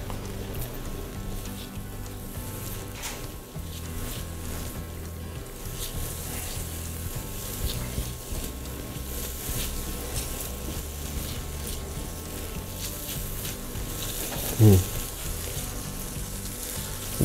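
Minced shallots sautéing in half-melted butter for a sauce, giving a steady, moderate sizzle throughout with faint stirring, and one brief louder clatter near the end.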